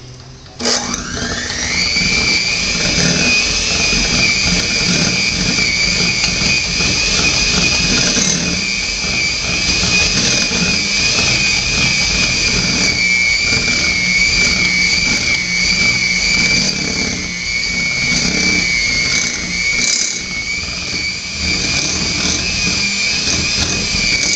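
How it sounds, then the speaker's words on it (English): An electric hand mixer beats dark brown sugar for a homemade chocolate cake: a loud, steady motor whine starts up abruptly and runs continuously, close and alone with no talking. "You want to use your mixer and beat those until a creamy consistency."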